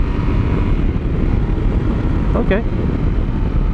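Wind roars steadily behind the windshield of a Yamaha Tenere 700 motorcycle while riding, a loud broadband rush with engine rumble, and a rider speaks a single brief word partway through.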